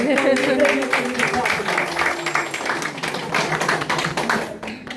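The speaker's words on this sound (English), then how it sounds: "let's give a big round of applause to our sponsor, Terrace Acres Baptist Church and Iglesia El Manantial." A church audience at a children's play applauding, a loud rapid clatter of many hands that swells then thins, with voices and tonal sound underneath.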